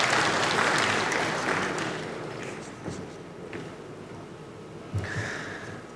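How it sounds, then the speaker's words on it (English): Delegates at a national dialogue on small-scale mining applaud members of a parliamentary lands and natural resources committee; the dense clapping starts loud, then fades over about two seconds, leaving quieter room noise with a voice briefly heard. "Let's give them a resounding round of applause."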